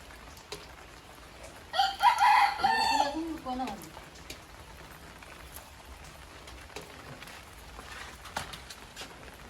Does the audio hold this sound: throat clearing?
no